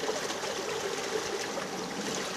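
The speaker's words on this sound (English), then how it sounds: "That's the actual water draining out of the mine." Orange-tinted water drains out of a mine and trickles into a stream, a close, steady babble of flowing water with no voices.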